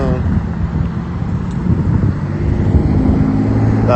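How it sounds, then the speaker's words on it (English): A loud, rumbling vehicle roars close by with heavy low engine noise and wind buffeting, sustained throughout. "That loud truck is right there."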